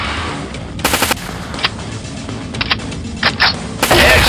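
Gunfire in the zombie shooter Fatal Raid: several rapid, loud bursts of automatic shots crack out over a steady game background, spaced irregularly, with a final burst at the end.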